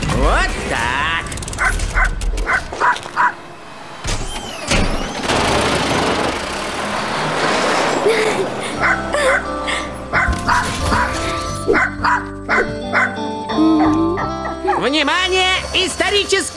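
A cartoon dog barks and yips in repeated bursts alongside whimpers, with character voices talking and engine-like rumbles from the Russian animated dinosaur series Turbozavry.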